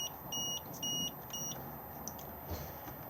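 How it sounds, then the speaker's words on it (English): An Adria Action 361 LT caravan's control panel gives an error beep because it isn't hitched to a running tow vehicle: three short, high electronic beeps in quick succession over a faint background hum. "if I select this, it's going to beep at us and give us an error symbol"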